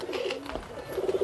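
Pigeons, including Teddy and Kamgar breeds, cooing in a loft, with soft low rolling coos close by, repeated in short bursts over faint background chirps.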